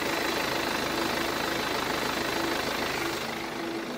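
BMW 420d Gran Coupe with a low-mileage twin-turbo 2.0 diesel, idling steadily with a smooth, fairly quiet hum and faint low rumble, continuous throughout with no voices.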